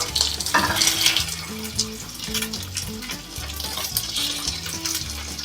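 A steady sizzle of chicken wings frying in a single layer in a hot pan, with soft clatter and a droning tone underneath.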